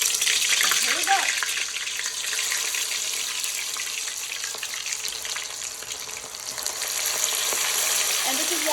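Calamari deep frying in hot oil in a deep dish, a steady loud broadband sizzle and crackle filling the whole stretch, with faint clinks of stirring early on.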